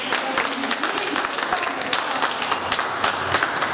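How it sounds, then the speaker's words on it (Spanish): A meeting audience in Tocache, Peru applauds loudly, a dense and steady wash of many hands clapping that runs throughout without letting up. "Un aplauso fuerte vamos dando por eso."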